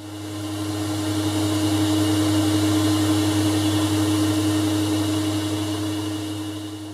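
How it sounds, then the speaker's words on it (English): A metal lathe runs steadily while cutting a chamfer on the top edge of a metal part, a loud continuous motor hum with a broad machining hiss that swells slightly and holds evenly throughout. "I'm just going to put a chamfer on the top edge there."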